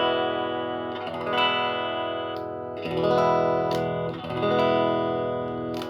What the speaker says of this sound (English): my Fender Player One Strat. That's going straight into my Boss DS1 for distortion